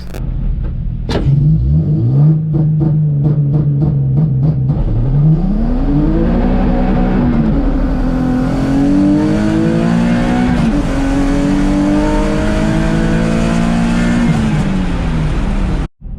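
Nissan 350Z or G35 V6 engine, tuned with Uprev Arc features, revved hard at full throttle, its pitch climbing and surging repeatedly in loud, continuous waves close by, with a short burst of popping near the start.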